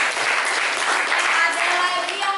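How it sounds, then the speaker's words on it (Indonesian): Classroom students clapping for a classmate during an Indonesian school lesson, a short, fairly loud burst of applause with a faint voice running underneath. "tepuk tangan."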